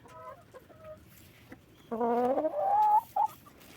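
A broiler hen clucks and squawks nearby in a series of short calls, building into a louder, drawn-out vocal burst in the second half, with no speech over it.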